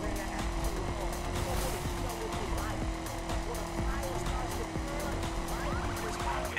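A car races off-road during a police pursuit in the video game The Crew, its engine droning steadily and tires squealing in places, with voices talking over it throughout.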